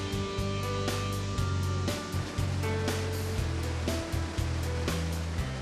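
A speedboat races toward Iguazu Falls, its engine droning under a heavy, rushing wash of water and spray, loud and continuous with bursts of roaring surf and slapping hull impacts.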